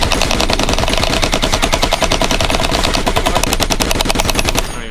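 Nerf Mr Beast Gel Fire blaster firing gel balls outdoors in a rapid, continuous automatic burst of loud mechanical clatter for several seconds before stopping.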